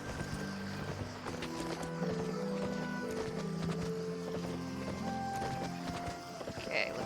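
Horse hooves clip-clop in the video game Petz Horsez 2, a steady gallop-like rhythm running under game music, with a brief whinny near the end.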